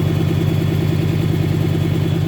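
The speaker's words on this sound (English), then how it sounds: "that's actually the exhaust." A loud, steady idling engine rumble with a rapid pulsing exhaust beat from a 1995 Acura TL, close up and continuous.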